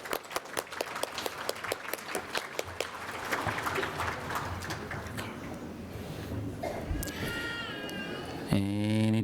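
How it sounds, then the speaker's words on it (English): Keynote audience applauds with clapping that starts as distinct claps, then swells into a dense, steady round of applause, followed by a brief higher tone near the end. "Give him a warm round of applause,"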